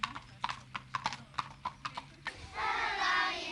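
A pony's hooves clip-clop in a quick, regular series of sharp nearby strikes, followed by a breathy, sustained whinny-like rush at the end; no speech.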